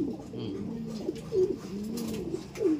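Soft repeated cooing from a pigeon or dove, several low throaty calls rising above a murmuring background, close but fairly quiet.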